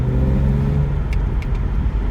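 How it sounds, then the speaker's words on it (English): BMW E90 330i/328i/325i engine running after a fuel pump replacement, a steady close idle hum with a low throbbing drone and faint light ticks, no voices. "Car's running no problem"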